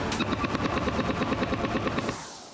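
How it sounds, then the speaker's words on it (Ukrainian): Soldiers in combat fire a rapid automatic burst, dense evenly spaced shots rattling for about two seconds at moderate distance before stopping abruptly, with no talk. "Бійці третьої штурмової на відстані в сотню метрів зустріли вогнем непроханих гостей"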